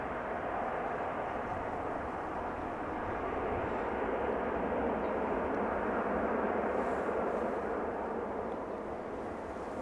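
Airliner rolling out after a gentle touchdown at Amsterdam Schiphol Airport, a steady broad roar of jet engine and rushing air heard from a distance, holding level throughout without talk.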